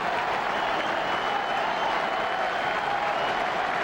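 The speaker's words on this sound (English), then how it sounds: "A very subdued postseason fall classic crowd." A subdued crowd at a 2000 World Series game between the Mets and Yankees gives a steady, broad wash of applause and murmur, continuous and fairly distant, with no peaks of cheering.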